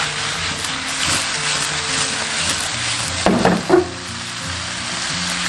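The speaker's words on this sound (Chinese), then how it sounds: "开大火翻炒至断生" Fish slices stir-fried in a wok over high heat, a steady close sizzle with scraping stirs and a brief louder clatter midway.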